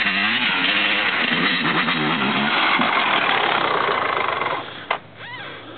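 A group of off-road motorcycles climbs toward the listener, engines droning loud and constant, then easing off sharply near the end.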